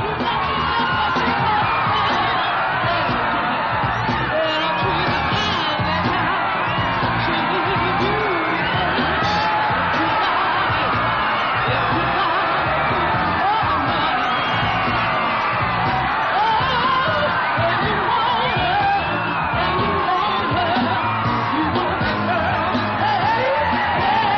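A large crowd waits for Alabama's arrival in 1973, a dense roar of cheering, whooping and yelling that fills the whole stretch at steady, loud level.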